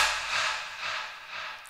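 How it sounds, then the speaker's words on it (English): A breath sample from the Kashmir pack, a soft airy exhale rising and falling in three gentle hissing swells, close and alone with no music beneath. "I am adding this breath sample from the Kashmir pack,"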